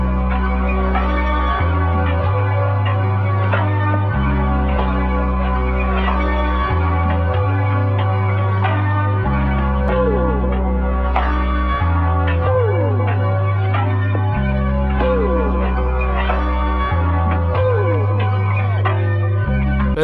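A finished dark vintage music sample plays loud and continuous: a heavy, repeating low bass pattern under bell-like melodic tones with echo, shifting in a steady looping rhythm, with no voices.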